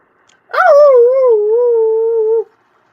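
A human voice imitates a dog howl: one loud, sustained, wavering howl that rises sharply and then holds for about two seconds, alone in otherwise silent surroundings.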